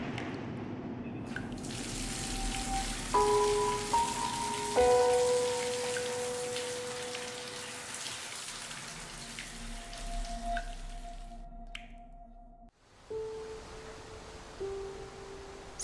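A shower runs in the video game The Cat Lady, a steady hiss of falling water that fills most of the clip, with tonal music lines layered over it and a brief drop before the spray resumes.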